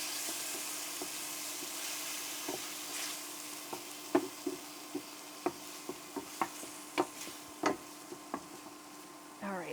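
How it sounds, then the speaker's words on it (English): Tomato sizzles softly in a pan while cooking for ful medames, a steady low frying hiss broken by scattered sharp pops and crackles. "Now it starts to sizzle a little."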